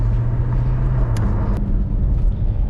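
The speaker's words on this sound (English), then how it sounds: "there's a car" A car passes during a countryside ride, its engine and tyre rumble a steady, close, low drone that holds loud through the whole short stretch with no voices.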